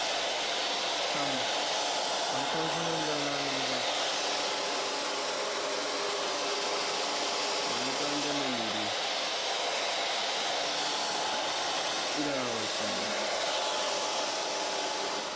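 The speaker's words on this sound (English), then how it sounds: "There's a lot of sounds everywhere from the jets to the blow dryers." Blow dryers run in a busy space, a loud continuous airy roar that fills the whole stretch, with a few faint rising and falling tonal sounds drifting through it.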